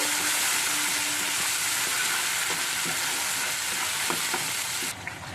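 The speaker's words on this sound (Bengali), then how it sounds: "এবার অল্প নাড়াচাড়া করব" Tempering spices and paste frying over medium heat in a pan for a Bengali papaya dalna, with a steady close sizzle broken by scraping stirs, easing slightly quieter at the very end.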